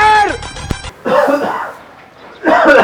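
An elderly man coughs in short, hoarse bursts close to the mic, with a throaty clearing sound between fits and brief pauses, in a Marathi village comedy sketch.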